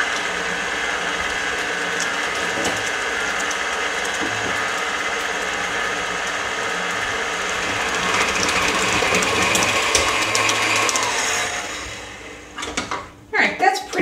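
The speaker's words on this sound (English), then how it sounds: "I'm going to start with the paddle attachment because I want to blend this up very well." A stand mixer with a paddle attachment blends Danish pastry dough, giving a steady, close mechanical whir and clatter that runs for most of the clip before breaking into a few uneven knocks at the end.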